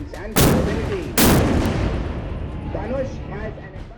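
Two heavy blasts from a Dhanush 155 mm howitzer about a second apart, loud and booming, each followed by a long rolling echo that fades slowly.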